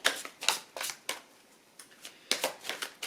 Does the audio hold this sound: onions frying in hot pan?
no